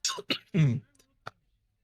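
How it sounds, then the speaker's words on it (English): A few short throaty coughs close by, separated by brief pauses, then a faint final cough after a short silence. "Hate coughing"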